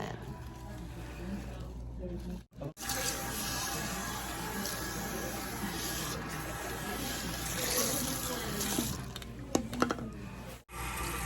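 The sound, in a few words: water running while rinsing hair at a sink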